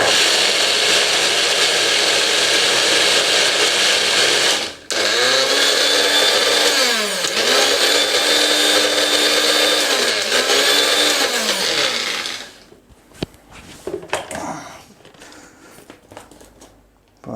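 A kitchen mixer grinder blends raw mango pulp with jaggery in two loud, high-pitched whirring bursts whose pitch dips and recovers. A brief pause separates them, and the motor winds down at the end, followed by a few clinks.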